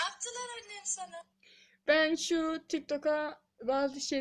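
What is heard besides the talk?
None of the usual background noises is heard.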